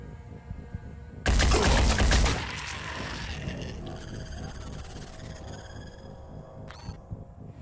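Gunfire in the tactical game Phoenix Point: a sudden loud, close burst of rapid shots that cuts off after about a second, followed by lingering rumble and a final sharp crack.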